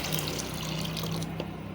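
Water pouring steadily into soaked lentils in a cooking pot on a lit stove for dal, a continuous close splashing rush with no talk.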